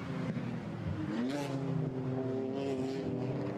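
A BMW GT4 race car in qualifying at Imola runs downhill, its engine note rising and shifting through the gears at moderate distance against a steady background rumble.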